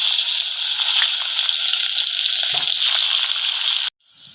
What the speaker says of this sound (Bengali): এই তেলের মধ্যে আমি কুঁদরোইগুলো ভেজে নেব।